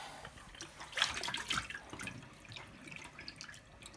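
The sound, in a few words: water flushing through a hog casing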